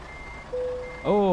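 A truck in Euro Truck Simulator 2 gives a single clear reversing beep, a steady tone that then swells into a louder, richer electronic beep right at the end, close and over faint engine hum, with no speech.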